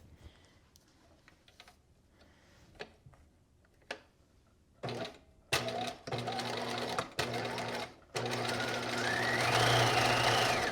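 A sewing machine runs a 2.5 by 2.5 zigzag along the short ends of a knit pencil skirt: soft ticking at first, then several loud, close bursts of stitching separated by brief pauses, ending in one long continuous run.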